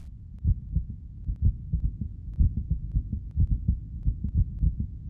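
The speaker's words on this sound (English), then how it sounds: "His heartbeat." A heartbeat sound effect in an Edgar Allan Poe horror reading, a steady, deep, muffled double thump repeating throughout, loud and alone without speech.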